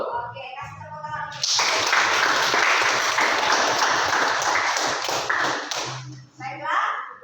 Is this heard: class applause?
yes